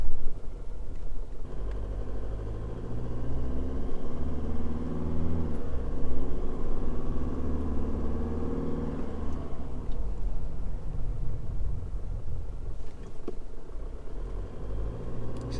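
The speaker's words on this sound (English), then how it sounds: "just accelerate your vehicle at a safe speed and slow down where safe to do so" A vehicle towing with a REDARC Tow-Pro Elite V3 electric brake controller accelerates on the road, a steady engine rumble rising and holding through the run, then easing, heard from inside with no talking.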